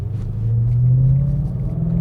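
Ford Mustang GT (2011-2014) with a BORLA exhaust climbing a hill, giving a deep, steady rumble that swells slightly as the car downshifts and pulls.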